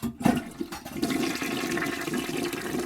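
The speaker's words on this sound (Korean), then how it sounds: "철수는 물 내리는 버튼을 눌렀다" A toilet flush in a horror audio drama: a click, then a steady rushing gush of water that swells and holds loud to the end.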